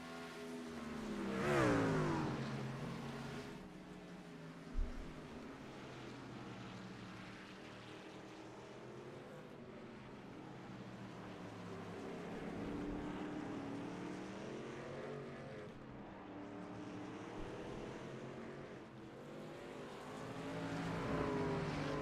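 SRM racing trucks roar around a track, a loud engine pass sweeping by early on, then a steady layered drone of several trucks continuing at a distance.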